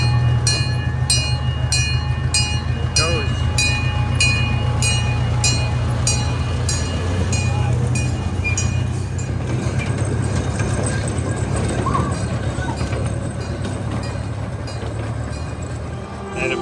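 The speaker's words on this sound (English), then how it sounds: "We've got the Quassy train station. Everybody's getting on board right now." A small amusement park train at the Quassy station rumbles steadily with low engine drone, repeated clicking and a bell-like ringing tone, loud and close throughout.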